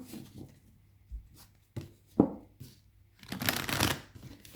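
Tarot cards shuffled and handled for a general reading, with a few soft card slaps and slides, then a longer riffling burst near the end, close and moderately quiet.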